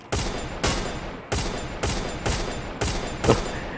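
Gunfire in the Free Fire video game: six loud, sharp bursts of shots with broadband cracks and decaying tails, spaced roughly half a second to a second apart, with no talk over them.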